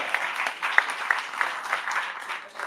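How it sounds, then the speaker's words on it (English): An audience at a Miami community tech event clapping, a short burst of close, scattered applause from a modest crowd. "round of applause"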